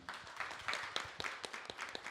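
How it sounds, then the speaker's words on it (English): A short burst of steady clapping from a small audience at a music prize panel event, close and continuous without pause. "Round of applause, please, for Caroline."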